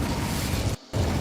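A Confringo fire spell bursts in Hogwarts Legacy combat as a loud, dense roaring blast that cuts out briefly partway through and then resumes at full strength.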